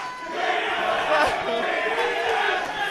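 Esports event crowd at a live show in St. Louis, a dense roar of cheering and shouting from a large audience, sustained and loud throughout with some chanting voices rising from the mass.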